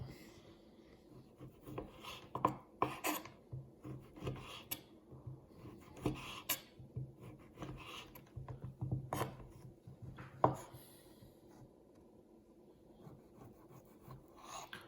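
Sanrenmu 9015 folding knife slicing through sausage, giving soft rasping, rubbing strokes with scattered sharp clicks, close and fairly quiet, no talk.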